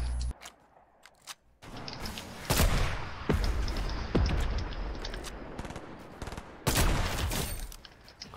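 Bursts of automatic gunfire in a shooting video game, loud sustained volleys broken by a brief gap and a few single sharp cracks, with no talk over it.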